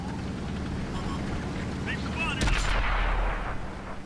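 Tank main gun firing in World of Tanks on console, a French Lorraine 40 t, one sharp blast near the middle that rolls into a rumbling decay, over steady engine and battle noise with a voice talking.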